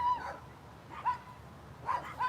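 A dog lets out three short barks spread across a couple of seconds, faint and somewhat distant over a quiet background.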